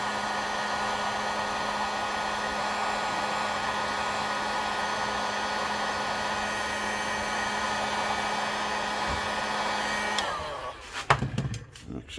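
A heat gun shrinking tubing onto a fishing rod handle blows a steady, loud hair-dryer-like whoosh for about ten seconds, then cuts off, followed by a few handling knocks and clatters.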